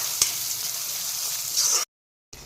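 Tomatoes frying over a high gas flame for masoor dal, a steady close sizzle that cuts out abruptly near the end and briefly resumes.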